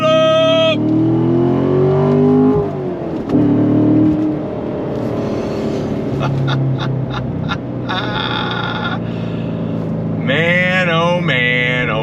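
Corvette C7 Stingray Z51 Premiere Edition with a seven-speed manual gearbox, pulling hard on throttle with a loud, rising engine note across several gear changes, someone talking over it at moments.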